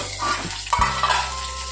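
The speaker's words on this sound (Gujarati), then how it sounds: "પછી આખો લીમડો નાખવાનો, પછી આ મરચાં નાખી દેવાના" Curry leaves and chillies dropped into hot oil for a tempering, a brief sizzle with a sharp burst of crackling partway through, close and fairly loud, with no talk.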